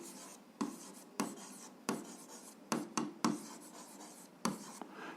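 Pen on paper during a seventh-grade algebra exercise, close quiet scratching strokes broken by repeated sharp taps at irregular intervals, with no talk.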